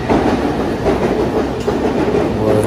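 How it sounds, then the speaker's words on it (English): Loud, close rumble of a moving Shinkansen bullet train in Japan, with rhythmic clacking and steady rolling noise throughout. "I'm now at the Shinkansen."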